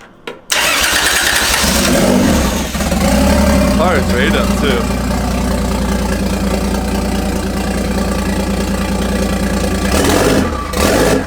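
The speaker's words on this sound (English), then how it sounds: "I figured I'd just show you guys a little startup." A turbocharged 1JZ engine with a straight downpipe and no exhaust cranks and fires up, then settles into a loud, rough, steady idle close by, with a brief voice speaking over it partway through.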